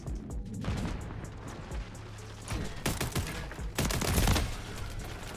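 Riveter gun firing in Call of Duty: Modern Warfare III gameplay. Loud, rapid bursts of gunfire crackle in clusters over continuous game ambience, with a heavier burst near the end.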